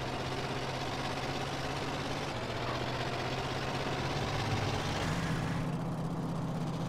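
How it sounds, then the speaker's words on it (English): A worn truck engine in GTA San Andreas, its block held together with a macrame hammock, runs on old cooking oil while hauling three tons of cargo, giving a steady, unbroken droning hum with no voices. "The engine block is held together with a macrame hammock and it's running on 15-year-old cooking oil"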